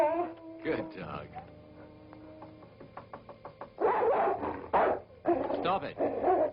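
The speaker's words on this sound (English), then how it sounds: "Good dog." A dog nearby gives a few short barks and yips with some whimpering. A person's voice is heard between them.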